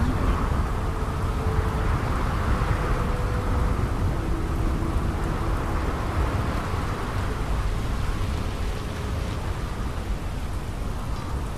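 Steady rain pours across the lightning-powered city of Neon in Starfield, a dense, continuous wash of falling water with a low rumbling undertone from the storm, loud and unbroken throughout with no voices.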